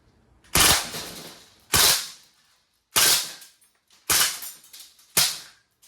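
A Crosman A4-P CO2 blowback airgun firing, five sharp loud cracks spaced roughly a second apart, each with a short metallic clatter and a quick decay into near silence.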